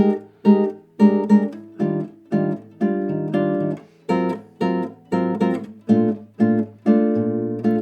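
A guitar strums a jazz chord progression, each chord ringing briefly in a steady rhythm, moving through changing harmonies without any voices.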